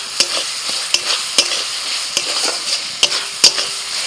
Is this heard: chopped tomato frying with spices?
yes